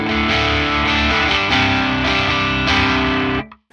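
Thick, distorted electric guitar chords ring out loud and sustained through an Axe-Fx III modeling the Carol-Ann Triptik amp, with a few rhythmic changes before cutting off abruptly at the end.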